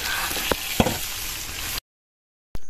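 Pork belly frying in a pan, with a steady close sizzle and a couple of sharp pops or stirring knocks, which cuts off abruptly into silence before a brief return.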